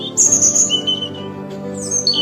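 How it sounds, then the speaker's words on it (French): A European robin sings in clear, high, thin whistled phrases, a few bright trills near the start and again at the end, over a steady low musical drone. "Le rouge-gorge va se mettre à chanter."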